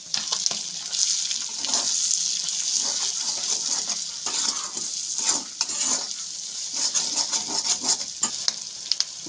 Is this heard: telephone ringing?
no